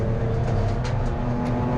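Race cars lapping Brands Hatch during a busy trackday trophy race, a steady, dense engine drone with several cars passing in waves, loud and continuous with no voices.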